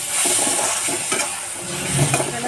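Vegetable curry sizzles loudly in a pan as it is stirred, with soft scraping and faint clinks of the spoon against the metal, close by.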